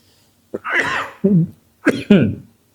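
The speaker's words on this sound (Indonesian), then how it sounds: "Jadi batuk" Two harsh, close coughs in quick succession, each a pair of rough bursts separated by a short pause.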